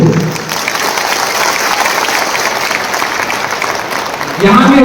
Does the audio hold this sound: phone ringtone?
no